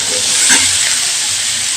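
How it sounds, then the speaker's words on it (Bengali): Pointed gourd (potol) frying in hot oil with a little turmeric, giving a steady, close hiss and sizzle throughout with a brief louder swell midway. "এবার পটলটাকে আমি ভালো করে ভেজে নেব।"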